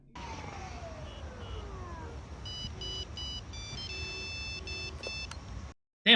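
A mobile phone ringtone plays a synthetic electronic melody of repeated beeping tones in a steady rhythm, moderately loud and alone, broken off by a short louder burst at the end.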